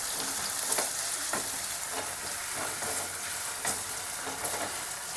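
Stuffed brinjal frying in oil in a pan, a steady loud sizzle with recurring sharper crackles and pops throughout, no voices.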